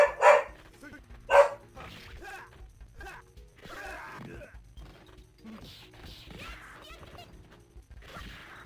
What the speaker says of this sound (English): My wife must have got home with dinner, and the dog's bark